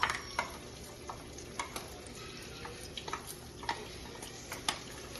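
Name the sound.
ground peanuts and sesame frying in chicken curry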